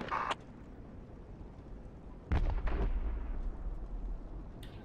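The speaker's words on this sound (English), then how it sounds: "I shot it, it didn't die, and then it blew up" A tank blows up in Project Reality, a military video game: a sudden heavy blast with a deep low rumble that lingers for a couple of seconds, following a short sharp burst at the start.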